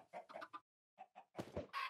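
Chickens cluck in a Minecraft-style modded video game where eggs are being thrown at them: several short clucking bursts in two groups, followed by louder, broader game noises near the end.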